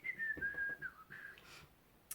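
A person whistles a short, faint, wavering tune in imitation of someone else whistling, a thin gliding note that trails off after about a second.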